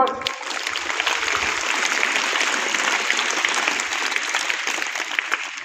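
An audience at a college event honouring students selected for the state cricket team bursts into loud, sustained applause, a dense wash of many hands clapping continuously throughout.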